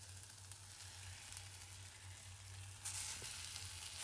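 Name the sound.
mixing spiced mashed potato stuffing in a pan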